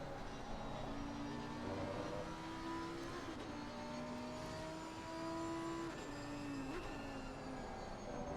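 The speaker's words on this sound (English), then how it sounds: "Oh, you can hear that BMW now over the McLaren." A Lamborghini race car engine roars steadily at Brands Hatch, its rising and shifting engine tones sustained throughout, with other racing cars blending in the background.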